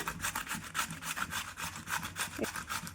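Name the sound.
grating food on a hand grater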